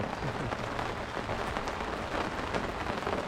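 Rain falls on a natural fishing spot, a close, continuous patter of drops striking surfaces with a busy, even texture and no voices over it.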